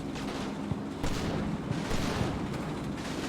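Battle sounds in a WWII strategy video game: dense, continuous rumbling explosions and bursts of gunfire overlap without a break, loud and heavy at the low end.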